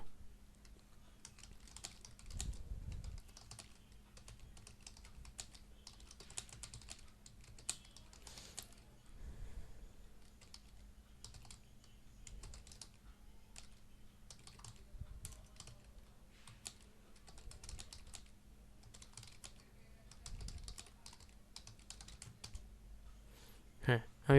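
Someone types on a computer keyboard in quick irregular bursts of soft clicks, with short pauses between runs, quiet and close, while a voice talks faintly at times.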